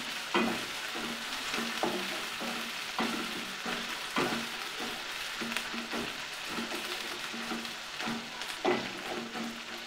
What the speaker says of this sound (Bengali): নাড়াচাড়া করে পেঁয়াজের সঙ্গে মিশিয়ে নিব